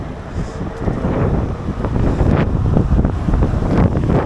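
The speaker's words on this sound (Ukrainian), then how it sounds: "Ну самі, мабуть, чуєте, що вітер." Strong wind in Warsaw buffets the microphone continuously, a loud low rumbling roar with gusts swelling toward the end.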